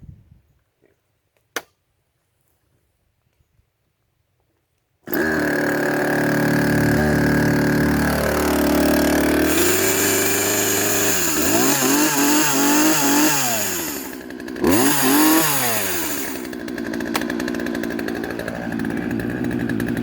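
Gas chainsaw roars loudly to life after a quiet stretch with one sharp click, then idles and revs up and down in uneven surges close by.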